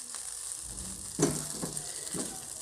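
Masala Maggi noodles with vegetables being mixed in a hot pan, a faint steady sizzle with a few soft scraping strokes, quiet and close with no talking.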